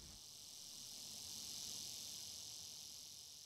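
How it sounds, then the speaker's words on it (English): Crickets and cicadas keep up a steady, dense high-pitched drone outside a country church graveyard in Georgia, continuous and even throughout, soft and somewhat distant, with no talking. "a chorus of crickets and cicadas greet us"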